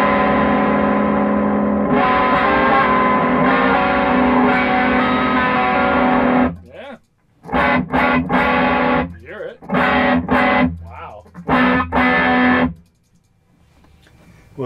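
A lap steel guitar strums big sixth chords through a distorted 1979 Marshall JMP 2203 MKII amplifier, loud sustained chords ringing out, then several choppy stabs with brief silences between them.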